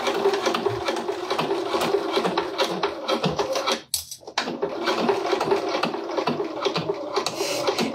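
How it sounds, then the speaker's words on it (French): Sewing machine stitching the last seams of a fabric pouch, a fast steady mechanical whirr of needle strokes that pauses briefly midway, then resumes at the same close, busy pace. "Cette machine qui décide de coopérer aux deux dernières coutures."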